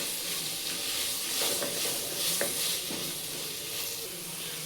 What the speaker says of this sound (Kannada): ಹಾಕ್ಕೊಂಡು ಇದನ್ನು ಚೆನ್ನಾಗಿ ಬಾಡಿಸ್ಕೊಳ್ಳಿ